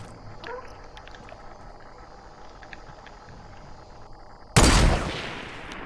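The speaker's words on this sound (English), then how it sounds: "I just shot at someone parachuting towards me" A gunshot in Fortnite, a single sharp loud blast near the end that decays into a brief echo, preceded by quieter game ambience.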